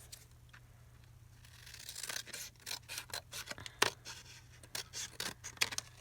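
Scissors cut paper for a journal page in a series of close, crisp snips and crinkly slicing strokes, quiet at first and then coming in irregular bursts with rustling between cuts.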